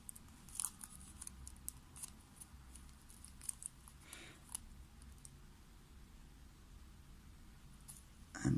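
Crisp origami paper being creased and folded by hand, with soft, close, intermittent crinkles and clicks over a quiet background, ending in a louder rustle.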